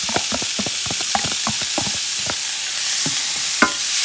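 Green beans are stirred through a sizzling pan with spicy shrimp, the steady hiss of frying running throughout while a utensil scrapes and taps the pan in a quick, irregular rhythm, one louder knock near the end.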